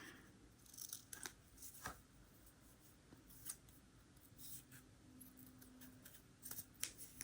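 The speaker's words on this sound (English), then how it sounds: "Cut 2 little pieces." Scissors snip two little pieces of paper, producing a handful of sharp, quiet close-up clicks scattered over a hushed background.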